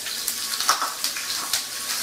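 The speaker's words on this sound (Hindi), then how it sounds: "तो तेल गर्म हो गया है, अब हम इसमें सरसों डालेंगे, थोड़ी सी हींग डालेंगे, करी पत्ते डालेंगे, हरी मिर्च डाल देंगे" Mustard seeds, asafoetida, curry leaves and green chillies hit hot oil for a tadka on khaman, giving a close, hissing sizzle with small crackles and pops scattered through it.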